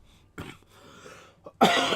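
A person coughs in a few sharp bursts, the loudest hack at the end, with a quieter throat-clearing rumble in between; close and dry, no talk.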